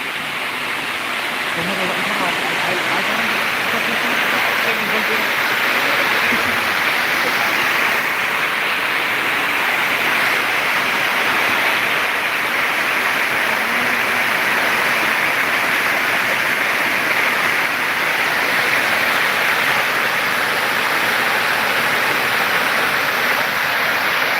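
Waterfall at Saikar, a constant roaring rush of falling water that stays loud and unbroken throughout, with people talking faintly underneath.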